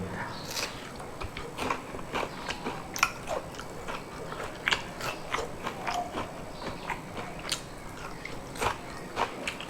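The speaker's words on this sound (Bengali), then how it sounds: "কামড়টা দিলেই কচর মচর করে উঠে ফাইন লাগে খাইতে" Crunchy fried shrimp fritters, made from discarded parts of small prawns, are bitten and chewed up close, giving a string of crisp, irregular crackling crunches at a low level.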